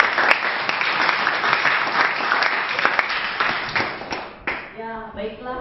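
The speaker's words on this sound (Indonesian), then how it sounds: "Tolong beri tepuk tangan untuk Melan." Classroom applause for a student, a crowd of pupils clapping briskly and loudly for several seconds before it thins out, followed by a teacher beginning to speak.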